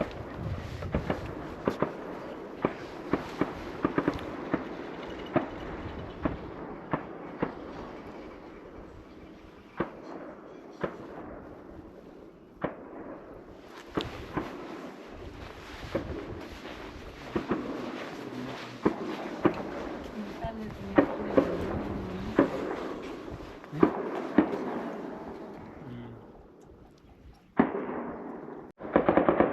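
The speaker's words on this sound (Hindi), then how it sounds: "AK-47 चल रही है बेसिकली नॉन स्टॉप।" Rapid AK-47 rifle fire from army camp training echoes continuously as sharp, repeated cracks and bursts, some near-loud, others farther off, over a steady outdoor rumble with occasional voices.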